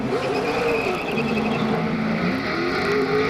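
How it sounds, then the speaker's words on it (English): A NASCAR stock car rolls along pit road during a caution in the 2003 GFS Marketplace 400, its engine droning steadily with shifting pitch and a broad mechanical roar, heard from a distance amid track noise, with no talking. "Waiting for Jimmy Johnson to make his way down pit road"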